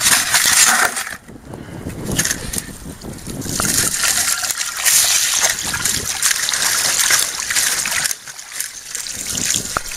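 Water rushes steadily through a Cali sluice fed by an auto feeder during gold concentrate test runs, with a continuous close, loud gushing and trickling wash and gritty crushing, rattling material tumbling throughout.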